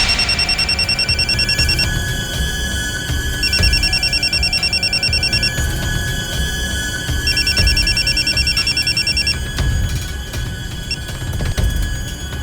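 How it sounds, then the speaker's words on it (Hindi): A telephone rings in repeated bursts with steady pauses between them, loud and close, over a low background rumble, with no voices. "फिर मैंने वसीम के फोन पे कॉल किया था।"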